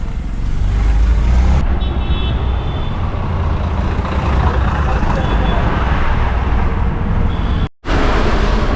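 A red MSRTC state transport bus runs on a road near Sangameshwar, a loud, close engine roar and road rumble that holds steady with a brief drop near the end, with voices faintly mixed in.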